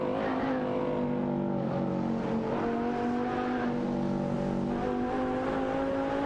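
In a racing video game, a Porsche 911 991 GT3 RS and an Aston Martin Vantage AMR battle wheel to wheel, their engines a loud, sustained droning whine that rises and shifts in pitch as they run close together, with no voices.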